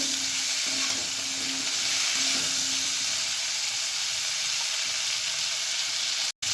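Flat beans and potatoes frying in a pan, an even continuous sizzle and hiss with faint stirring, briefly cutting out near the end.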